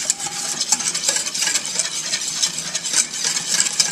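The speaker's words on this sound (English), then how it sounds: "I use a whisk because it kind of gets everything whisked around" A whisk works a cheese sauce of flour, butter and cheese in a pan, giving a close, continuous brisk scraping and swishing with quick rhythmic strokes throughout.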